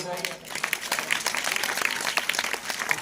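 An audience at a church sermon bursts into a short round of crowded clapping, with a voice talking loudly over it.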